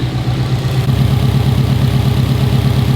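An STi-swapped Subaru GC8 Impreza engine idles steadily up close, a loud, even low rumble with a regular pulsing beat and no voices.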